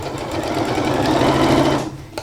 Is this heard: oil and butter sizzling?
no